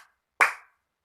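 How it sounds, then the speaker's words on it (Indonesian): A single sharp, close hand clap rings out in a classroom, brief and bright against otherwise near silence. "kalau misalnya Ibu bilang selamat siang, anak-anak tepuk tangannya dua kali"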